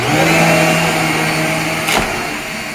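A Riccar R25 upright vacuum cleaner runs steadily with its brush roll spinning, a loud continuous motor whine and hum that holds throughout, with a brief extra whoosh near the end.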